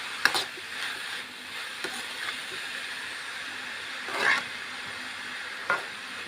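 Elephant yam stalk and green gram are stirred in a pan, producing a soft continuous sizzle broken by a few spaced scrapes and knocks of a spoon against the metal.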